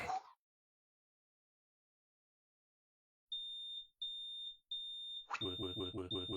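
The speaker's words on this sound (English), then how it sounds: "The fire alarm? Fire? On my property?" A fire alarm rings in the video game Star Seeker, sounding as three evenly spaced, loud electronic beeps after a brief burst and a long silence, then a harsher ringing alarm that continues to the end.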